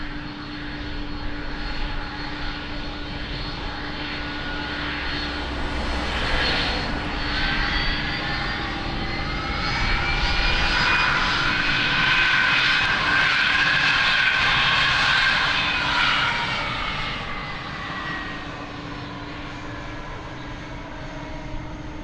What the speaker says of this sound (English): Lima Kilo, taxiing Mike 5.